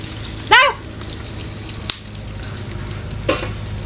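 Fish frying in a hot pan, a steady low sizzle with a few sharp spits and crackles standing out, heard up close with no talk.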